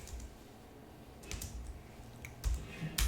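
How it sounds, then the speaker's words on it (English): A short burst of computer keyboard typing, several soft key clicks in quick succession, including a command entered on a Debian system, faint and close with no talk. "I'm going to type in df-H"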